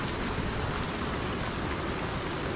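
Steady rain in the survival video game Icarus, a constant even hiss of rainfall with no break or change in level, fairly quiet and with no voices.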